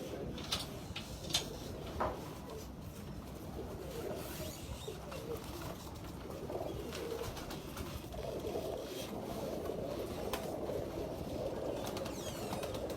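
A Sialkoti pigeon coos softly in a loft, low murmuring calls repeating over a quiet background, with a few sharp clicks and knocks near the start.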